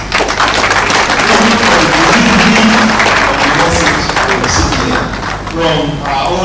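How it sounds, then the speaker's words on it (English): Loud audience applause at a justice access event, dense sustained clapping from a large crowd for several seconds, thinning slightly toward the end with some voices mixed in. "let's have a very loud round of applause"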